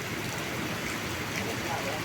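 Steady rain falling after nearly a week of downpour near Padang, with a river running high; a dense, even hiss of drops fills the whole moment without a break.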